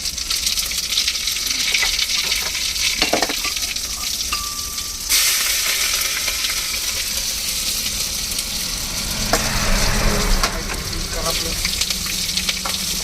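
Cumin seeds and garlic frying in a hot pan over a roadside truck cooking setup, a steady loud sizzle running throughout with a burst of hiss midway as more goes in, occasional stirring scrapes, faint voices nearby.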